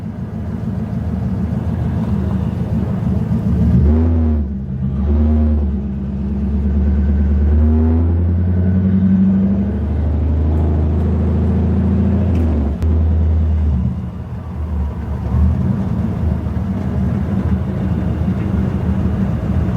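A loud old car engine runs close up with a heavy, steady low rumble and brief revving swells, continuous throughout.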